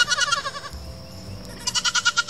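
Baby goats on weaning day bleat and scream in loud, repeated pulsing bursts, with a short quieter gap before another run of close, rapid cries.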